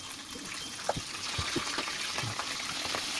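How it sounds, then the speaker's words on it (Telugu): Cooking oil pours into a pan in a steady close stream, a continuous liquid rush with a few small splashes throughout. "ఇప్పుడు తగినంత ఆయిల్ అయితే పోసుకుందాం."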